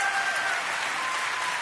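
Radio studio audience applauding steadily, a dense even wash of many hands clapping at moderate level throughout, with no talk over it.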